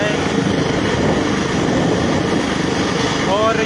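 Helicopter approaching a mountain chairlift, a steady loud rotor and engine roar filling the whole stretch, with continuous broadband noise and no clear gaps.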